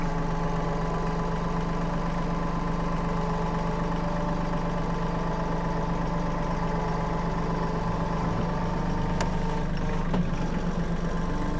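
Mahindra 1626 tractor engine idling steadily while the loader bucket is lowered, a constant close diesel rumble with a steady low drone throughout and a faint brief clank near the end.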